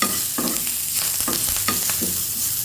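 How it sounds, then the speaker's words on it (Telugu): Tempering spices (cumin, mustard seeds, urad dal, dried red chillies and chana dal) crackle in hot oil, with a bright sizzle broken by several sharp scraping stirs of a spoon against the pan, close and loud with no talking. "మంచిగా జీలకర్ర, ఆవాలు, మినపప్పు, ఎండుమిరపకాయలు, శనగపప్పు అన్నీ వేసాను."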